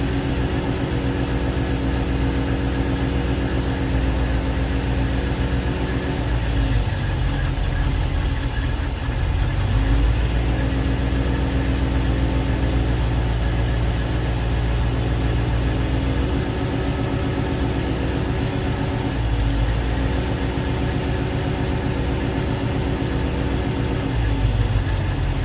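A carbureted small block Chevy marine engine idles steadily, a loud continuous low rumble with an even pulse and no voices over it.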